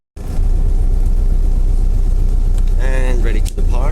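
A TransBunbury bus engine idles with a steady low rumble before departure, loud and continuous, with a voice talking over it near the end.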